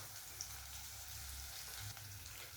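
Chopped onion, green chilli, garlic and curry leaves sauté in a pan for papaya thoran. The sizzle is a faint, even hiss that runs steadily throughout, with no voices.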